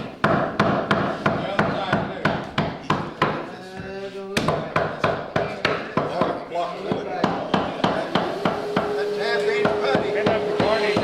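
Steady, sharp hammer blows strike a nail again and again in a quick, even rhythm during skiff boat building, loud and close, with a brief pause partway through.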